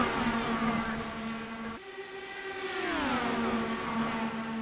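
Race cars from the Area 51 Dark Horse Series scream past together, with steady high engine drones that shift pitch as the pack passes and the cars fill every lane.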